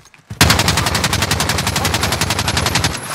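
Rapid automatic gunfire from Call of Duty: Warzone erupts after a brief quiet start, then rattles on loud and continuous in dense, unbroken bursts with no voices over it.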